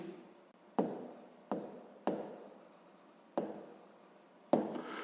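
Pen writing in a school notebook during a sixth-grade maths exercise, heard as quiet scratchy strokes, with five or six distinct starts of writing that each fade out, close and alone.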